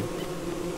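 Steady, close buzzing of a bee swarm in the video game Don't Starve Shipwrecked on a jungle island, a continuous drone with no gaps and no voices.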